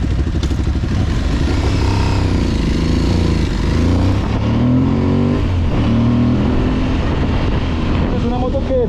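An Aprilia Tuareg 660 adventure motorcycle rides off-road on a dirt trail, its engine droning steadily and loudly up close with shifting pitch as it revs, while a rider talks over it throughout.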